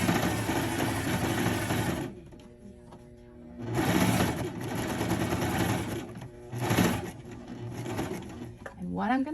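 A serger sewing machine runs in several loud, steady bursts of rapid mechanical whirring as it stitches quilt binding, with quieter pauses in between and talk in the background.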